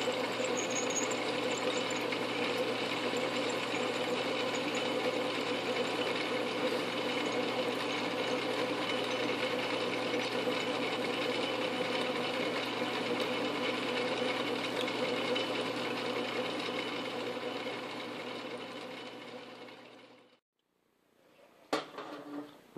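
A metal-cutting machine slices off part of an all-metal hot end for an XYZPrinting Da Vinci 1.0A 3D printer, giving a steady, loud whirring drone that runs unbroken for about twenty seconds, then winds down and stops, followed by a brief clank.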